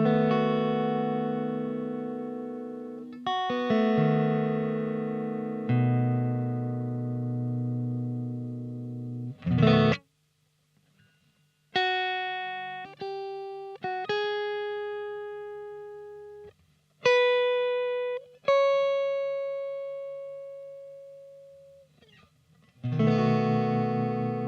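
Sustained electric guitar chords and single ringing notes with a shimmering, side-to-side stereo chorus wobble from an effects pedal, played alone with pauses between phrases.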